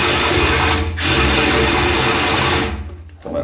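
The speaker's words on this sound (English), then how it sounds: "I'm also using the hand drill as opposed to the big machine" A motorized hand drill clearing roots in a sewer line runs with a loud, steady grinding whir, dipping briefly, then slowing and sputtering near the end.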